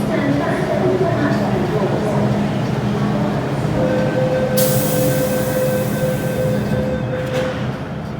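An MTR subway train rides near Tai Koo Station with a loud, steady rumble of wheels and car noise throughout, sustained tonal squeals rising partway through, and a sharp hiss near the end.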